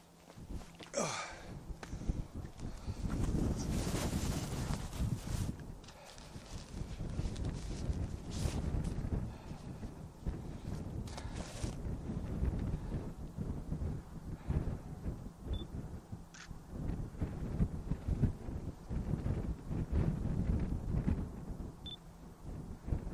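Steady, roaring wind buffets the microphone on an exposed summit, a dense broadband rush that holds nearly unchanged throughout with faint gusty swells and no speech.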